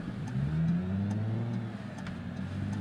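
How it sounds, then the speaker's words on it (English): Two cars passing on a road, heard from inside a waiting vehicle, a steady loud engine drone with a rising-and-fading whoosh as they go by, no talking. "I'm gonna wait for these 2 cars to pass before I make my turn."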